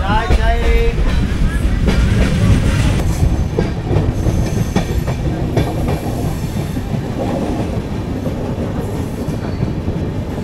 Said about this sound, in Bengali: ধৌলি এক্সপ্রেস ঠিকঠাক সময় 9:30তেই এসে থামলো সাঁতরাগাছি স্টেশনে।